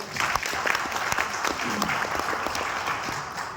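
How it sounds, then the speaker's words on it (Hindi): Steady, dense applause from an audience at a network marketing seminar, many hands clapping together at even loudness throughout, with faint voices mixed in. "एक बार जोरदार तालियां हो जाए"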